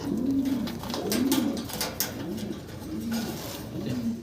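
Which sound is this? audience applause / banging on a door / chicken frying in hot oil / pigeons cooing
pigeons cooing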